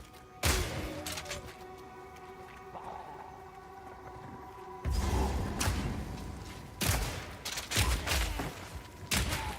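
Shotgun crossbow firing in the video game Supervive: several sharp, loud shots spaced irregularly over quieter game ambience, with heavier impacts clustered toward the end.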